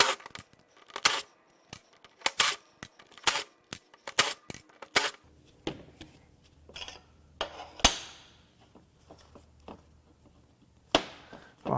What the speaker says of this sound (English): Now it's time to take the oil pump apart.